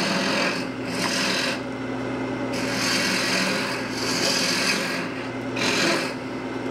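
A wooden teapot being hollowed on a lathe: a steady, continuous rasping scrape of the cutting tool against spinning wood, swelling and easing in a slow rhythm over the constant hum of the machine.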